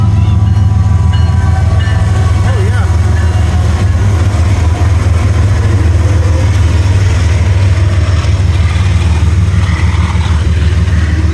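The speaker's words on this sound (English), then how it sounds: "Second train of the afternoon. This one's on track two." A loud, steady rumble of a Norfolk Southern intermodal freight train with a C44-9W locomotive rolling past, with deep engine drone and rattling cars throughout.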